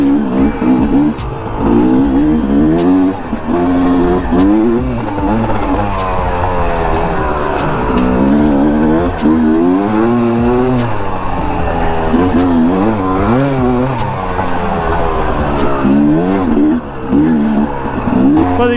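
A Yamaha YZ250 two-stroke dirt bike ridden hard on an enduro trail at Taylor Park, its engine loud and close throughout, rising and falling in steady revving sweeps as the rider works through the gears.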